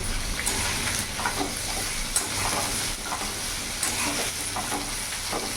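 Mixed vegetables with a bowl of green peas, for a vegetarian paneer mixed-veg dish, fry and get stirred in a pan. A dense, steady sizzle carries frequent clicks and scrapes of stirring throughout, with no voices.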